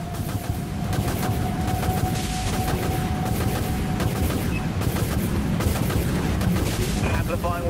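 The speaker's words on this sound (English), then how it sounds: "All silos launch missiles." Missile silos on a warship in the space combat game Dreadnought fire in a dense, continuous barrage of rumbling launches and blasts, with voices calling out over the din.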